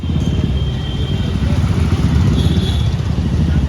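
Bajaj Freedom 125 CNG motorcycle riding on a road, a steady low engine rumble with wind noise running continuously and fairly loud throughout.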